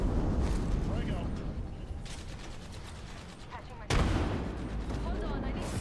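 A frag grenade bursts in a battle royale video game firefight, a loud explosive crack near the four-second mark amid ongoing gunfire and player talk.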